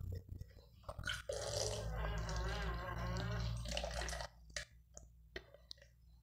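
Water pours steadily into a plastic measuring cup for homemade liquid laundry soap, a close, bubbling stream lasting about three seconds with a rising gurgle as it fills, then a few drips and handling clicks.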